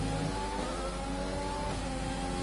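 A Renault Formula 1 car in an F1 video game at Hungary, its engine holding a steady high-pitched whine that shifts slightly in pitch, loud and continuous without talk.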